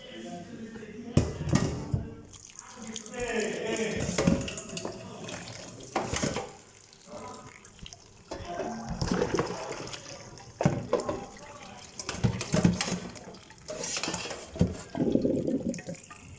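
Lasagna noodles rinsed under a running kitchen tap, water splashing into a small basin in the sink, uneven and broken by gaps, with a few faint voice sounds mixed in.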